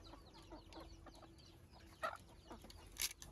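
A pair of native chickens cluck quietly in a rural mountain village, soft, scattered calls with a couple of sharper notes near the end.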